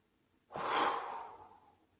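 A single long, audible exhale through the mouth after a neck squeeze stretch, rising quickly, then fading gradually over about a second and a half, close and soft against a quiet room.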